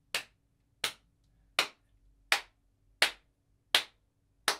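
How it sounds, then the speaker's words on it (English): Bare hands clap out a song's tempo in a percussion rhythm lesson, seven crisp, evenly spaced claps close by in a quiet room with nothing else heard. "maybe you can clap it."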